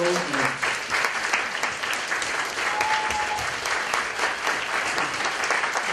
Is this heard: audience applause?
yes